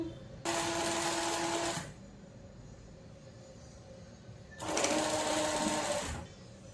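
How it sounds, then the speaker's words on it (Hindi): Two bursts of a sewing machine stitching along a folded half-inch edge of a blouse, each running steadily for about a second and a half, close and fairly loud, with a quiet pause between them. "यहाँ बराबर इसके एज पे सिलाई देती हूँ।"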